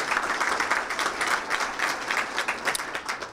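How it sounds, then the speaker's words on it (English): Audience at a chamber of commerce city address applauds for Kevin, a full, even wash of many hands clapping at steady volume throughout. "Give Kevin a nice round of applause."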